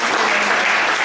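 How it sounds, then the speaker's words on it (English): Loud, dense crowd applause welcoming a speaker at a gallery talk, a continuous wash of clapping close by with no voices over it. "Please join me in a welcome round of applause for our"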